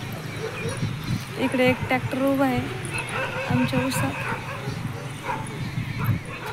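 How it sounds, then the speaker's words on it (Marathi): Puppies quarrelling near a shop, yipping, whimpering and barking in short bursts, while a person talks over them in the foreground. "कुत्रे वगैरे आले असतील, त्याच्यामुळं आमचे पिल्लांचे भांडणं चाललेले"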